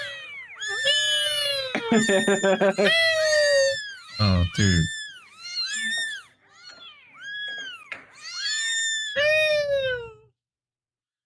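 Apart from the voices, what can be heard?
cats meowing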